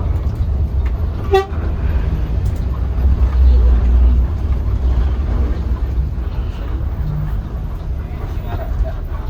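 A Setiawan bus passing on the road toots its horn once, briefly and fairly loud, over steady road and engine rumble heard from inside a moving coach.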